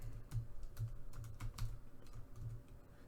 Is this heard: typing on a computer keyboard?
yes